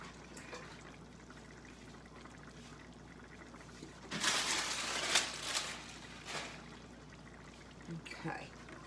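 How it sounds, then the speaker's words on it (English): Running water from a kitchen tap splashes over fingers for a few seconds in the middle, moderately loud and close, with quieter background noise and someone talking before and after. "let me wash that off my fingers."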